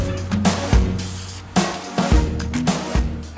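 Marking spray paint hisses in bursts from an aerosol can onto the ground while a line is laid out for landscaping, with short sprays separated by thumps and handling knocks, close and fairly loud.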